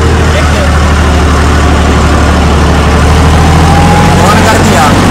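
A 15 hp tractor engine drones heavily nearby while taking load, a loud, continuous low rumble with a steady pulsing throb, and people talk over it.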